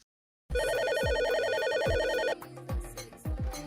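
A telephone ringtone starts after a brief silence, an electronic warbling tone that repeats loudly and close, with dull thuds underneath. It cuts out after about two seconds and is followed by scattered knocks.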